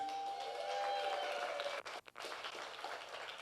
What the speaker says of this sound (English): Let's hear a round of applause for Aaron.